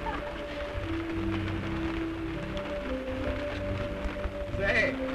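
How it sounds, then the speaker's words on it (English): Steady rain patters on leaves in a 1932 film, a soft continuous hiss with scattered drops, while music and a brief vocal sound play over it. "Rain."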